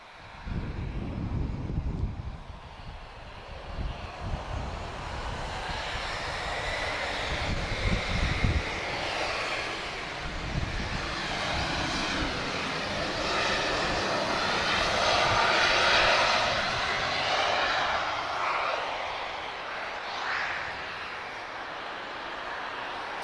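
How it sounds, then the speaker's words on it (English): Large aircraft engines roar on a runway, a loud sustained rumble and whine that swells and fades with wind buffeting the microphone. "so that's the craft that's on the runway now. So much bigger engines there."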